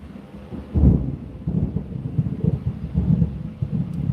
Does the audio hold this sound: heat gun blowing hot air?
no